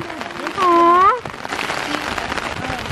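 Steady rain from Storm Henri hisses throughout, and a brief high sustained vocal sound rises over it near the start.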